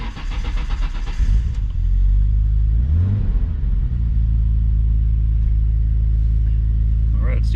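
A Nissan Skyline GT-R R32 with an RB26 engine and HKS intercooler hard pipes cranks and catches, then settles into a loud, steady idle rumble close by, with a short burst of talking near the start.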